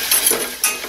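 Lemon and parsley hit hot olive oil in a pan for a sauce, giving a close, bright crackling sizzle with a short stirring scrape.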